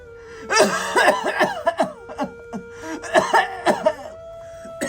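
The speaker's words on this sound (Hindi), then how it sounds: "खांसी हुई है।" Repeated harsh coughing fits, several bursts in quick succession, close and loud, with brief pauses between rounds.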